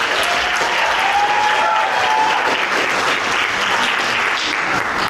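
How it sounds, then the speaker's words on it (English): Sustained applause from a pageant crowd cheering the contestants, a dense, loud roar of clapping that holds steady from start to finish, with a faint whistle-like tone rising briefly near the start. "Big round of applause for these ladies"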